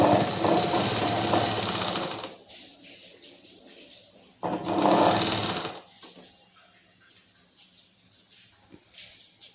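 A sewing machine stitches fabric in two loud runs, the first about two seconds and the second shorter, with quiet handling noises and faint clicks between and after.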